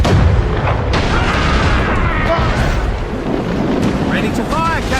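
Ship cannons fire in Assassin's Creed Rogue, making a dense, heavy rumble of booms that rolls on continuously and loudly. Voices and other game sounds mix in faintly.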